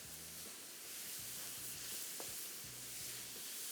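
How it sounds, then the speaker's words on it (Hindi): Meat seasoned with pink salt fries in a pot, giving a steady close sizzle with soft intermittent stirring scrapes and low thumps, no voices. "और इसके बाद इसको थोड़ा सा करेंगे फ्राई।"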